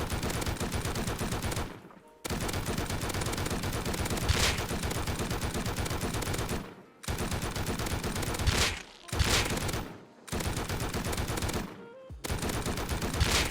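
Heavy M2 machine gun in the survival game Rust fires long, loud sustained bursts, broken by several short pauses between volleys.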